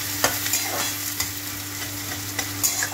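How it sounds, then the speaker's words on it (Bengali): Chopped onion sizzles and fries in hot oil with whole spices such as cinnamon, cloves, cardamom and bay leaf, with a steady crackle and occasional scraping stirs of a spoon in the pan, no voices. "পেঁয়াজটা ভাজা ভাজা হবে"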